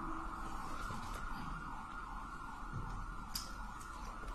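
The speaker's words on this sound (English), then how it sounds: "I understand sirens, unfortunately." A distant emergency siren wails steadily beneath a low rumble of passing traffic in Denver, faint but continuous throughout.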